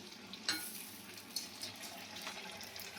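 Pumpkin fritters and masala papad fry in oil with a soft, faint sizzle and a few sharp pops and crackles scattered throughout.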